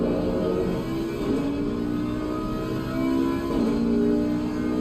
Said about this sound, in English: So the Audi is purring nicely.